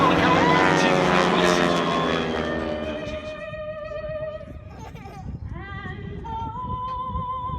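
Propeller aerobatic planes of the AeroShell Aerobatic Team roar overhead at the Greenwood Lake airshow, a loud engine drone that fades as they pass, under a public-address announcer's voice.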